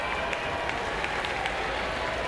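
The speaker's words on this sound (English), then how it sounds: "A cool moment with the crowd on its feet, his teammates all on their feet applauding" Baseball crowd at an LSU versus West Virginia Super Regional game rising to its feet, with teammates applauding: a dense, steady wash of clapping and crowd roar that holds evenly throughout.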